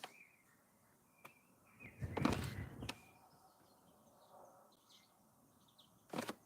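Bright, scattered bird chirps and whistles come and go, punctuated by a few sharp clicks and a soft fluttering burst.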